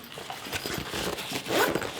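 A zipper is pulled closed on a small fabric toiletry pouch, a quick rasping zip rising near the end, close by with light handling noise.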